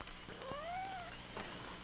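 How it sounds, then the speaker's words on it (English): A kitten gives a single drawn-out, rising-then-falling meow, close and clear, followed by a brief faint second cry over a low background hum, with no talking. "Oh, Susan, I forgot about the kitty."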